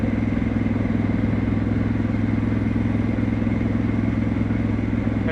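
A Harley Davidson motorcycle runs in a steady, loud, continuous engine drone with a pulsing low rumble, heard close while riding.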